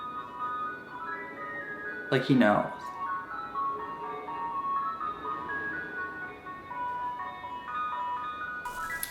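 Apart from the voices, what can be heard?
ice cream truck driving by playing its tune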